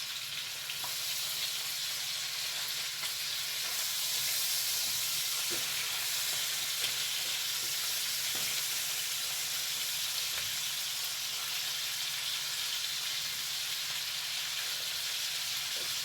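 Food browns in a frying pan with a steady, even sizzle and hiss that lasts throughout, broken by occasional faint stirring clicks and no voices.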